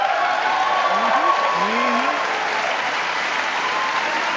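Loud, dense applause from a large audience at the State of the Union address, steady and continuous throughout with some cheering mixed in and a faint voice briefly audible underneath.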